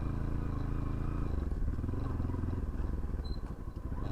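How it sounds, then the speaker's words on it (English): A Bajaj Pulsar NS 160 motorcycle with a modified exhaust idles nearby with a deep, steady throbbing rumble, outdoors in the evening. "Just yesterday I had modified my NS 160 sound."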